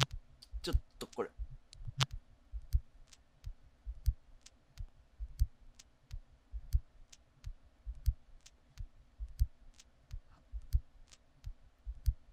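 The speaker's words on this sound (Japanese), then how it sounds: "振動の鼓動のような音が聞こえますでしょう。" A low, steady throbbing pulse repeats at an even, heartbeat-like pace, with a few sharp clicks near the start.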